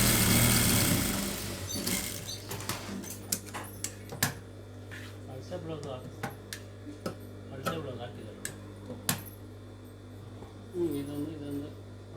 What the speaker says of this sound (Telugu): ఇప్పుడు అలాగే దాని ఇన్సైడ్ ఫోల్డింగ్ అనేది చేసి ఇటువైపు కూడా ఒక స్టిచ్ అనేది వేసుకునేయండి